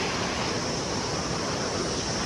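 River water rushes steadily and loudly at a stream crossing on a trek to Nage Pokhari, a constant close hiss with no pauses and no voices.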